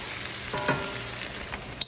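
Lean ground beef with dark soy sauce and a pinch of sugar fries in a hot pan, a steady loud sizzle with a brief stir partway through and a few clinks near the end.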